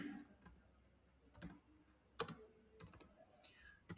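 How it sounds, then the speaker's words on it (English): Quiet, close keystrokes on a computer keyboard as a command is typed, coming in sparse irregular clicks and short clusters with gaps between them, over a faint room background and no talking. "first I will just type the command and then I will explain"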